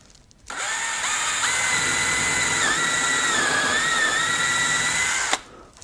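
A power drill bores quarter-inch dowel holes in wood with one continuous, loud, high whine lasting about five seconds, starting and stopping abruptly, with the pitch wavering slightly under load.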